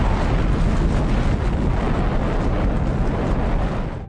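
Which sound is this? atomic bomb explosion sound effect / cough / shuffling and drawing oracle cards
atomic bomb explosion sound effect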